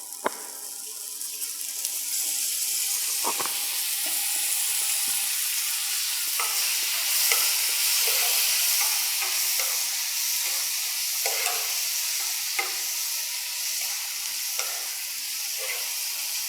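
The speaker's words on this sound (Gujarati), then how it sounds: "હવે મસાલા બળી ના જાય એના માટે આપણે થોડુંક પાણી એડ કરી દઈશું." Water poured into frying spices for a milk-and-sev curry (dudh sev nu shaak) sets off a loud, steady sizzle, with repeated scraping stirs in the pan running through it.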